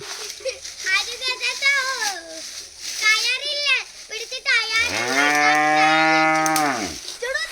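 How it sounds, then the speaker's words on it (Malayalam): A cow moos long and loud close by, one sustained call following a stretch of lively talk from a person. "ഇതാ കറമ്പി പശു വിളിക്കുന്നു."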